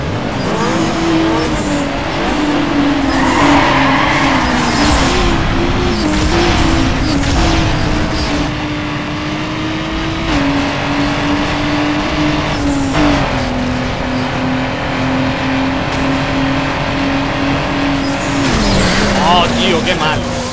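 Racing engine of a Nissan Skyline GT-R R34 in Need for Speed Underground 2, a steady high rev drone shifting pitch through gear changes with brief tire squeals, loud throughout under continuous talking.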